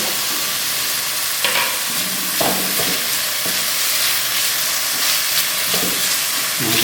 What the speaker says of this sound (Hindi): इसको थोड़ा सा हल्का सा फ्राई करना है।